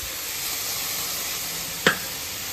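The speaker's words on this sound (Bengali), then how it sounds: "যতক্ষণ এদিকটা ভাজা ভাজা হচ্ছে" Food frying in a pan with a continuous broad sizzling hiss and one sharp clack of a utensil near the end, heard up close with no voices.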